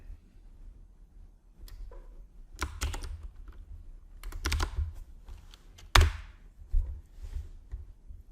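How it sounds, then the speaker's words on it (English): Keystrokes clatter on a computer keyboard in irregular bursts, close and distinct, with a sharper key press standing out near the end; no voices. "Let's type this in."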